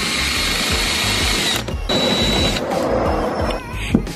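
Power drill boring bolt holes through a carbon fiber Voltex wing on a Mitsubishi Evo X, a loud continuous high-pitched whine with a short break in the middle and a brief dip near the end.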